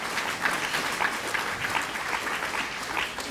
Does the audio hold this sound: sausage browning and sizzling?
no